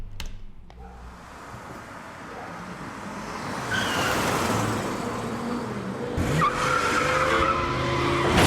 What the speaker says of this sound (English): there's a bit of a skid with those tires